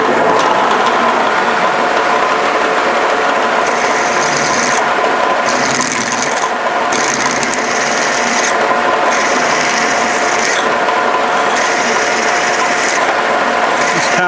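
Metal drill peck-drilling slowly through tough metal stock with a little cutting oil, giving a steady, loud, continuous grinding rasp throughout with brief gaps in the high-pitched cutting noise.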